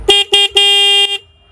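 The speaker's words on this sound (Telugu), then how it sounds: "అండ్ కింద కానీ చూసుకుంటే హార్న్ అయితే ఉంది." Horn on a 2025 KTM Duke 200 motorcycle, sounded close up in three bursts: two short toots and then a longer held blast of about half a second, followed by quiet.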